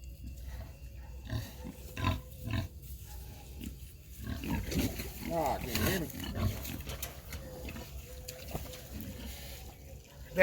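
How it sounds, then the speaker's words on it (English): Piney Woods rooter pigs grunting and squealing close by, with scattered short grunts building to a denser, louder cluster of calls midway, then tapering off; some faint voices may sit underneath. "That's those Piney Woods rooters we did the video on probably a month or two ago."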